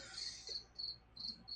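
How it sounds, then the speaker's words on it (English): Crickets chirp in a fast, steady series of high trilling pulses, about five bursts with short gaps, fairly faint and with no voices over them. "crickets."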